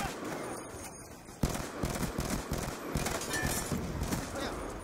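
Type 25 rifle fire in a first-person shooter, a rapid run of automatic shots starting suddenly and continuing in bursts, with someone talking over it.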